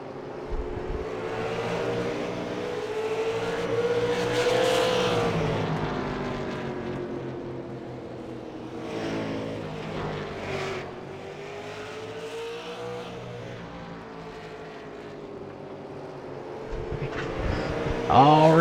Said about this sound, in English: We got the 81 of Gonder still out front, leading this race.